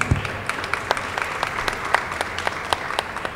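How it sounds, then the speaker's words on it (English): An audience applauds panelists at a panel discussion on arts criticism, a moderate spread of individual claps rattling steadily for a few seconds at a fairly low, somewhat distant level. "do we want to give a round of applause for our panelists?"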